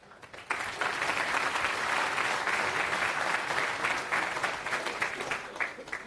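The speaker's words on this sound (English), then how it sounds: "Round of applause." Conference audience applauding a speaker at FOSDEM, a steady dense wash of clapping that starts abruptly and holds throughout, tapering slightly at the end.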